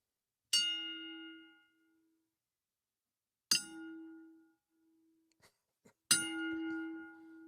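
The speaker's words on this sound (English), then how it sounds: "That second bell went clink." A tribute bell is struck three times, each a bright metallic clang with a ringing tone that decays over about a second, separated by silence, with a couple of faint clicks before the last strike.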